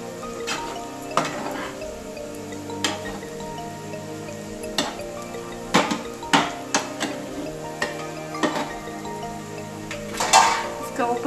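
A spoon stirs Maggi masala into egg noodles in a pan, sharp clanks and taps against the metal at uneven intervals, clustering more densely toward the end.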